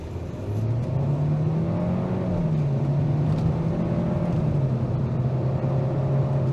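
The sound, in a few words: 2023 Hyundai Sonata Limited engine accelerating uphill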